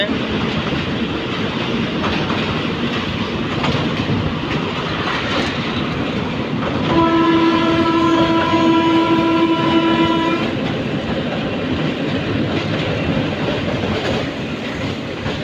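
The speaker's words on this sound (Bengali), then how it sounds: "ট্রেনের গতি বাড়াচ্ছে" The Surma Mail, a small local train in Bangladesh, speeds up after crossing from Narsingdi into Gazipur: a loud, steady rolling rumble of carriages with a long, sustained horn blast midway.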